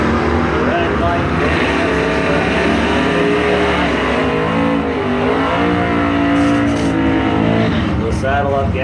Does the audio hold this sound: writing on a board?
no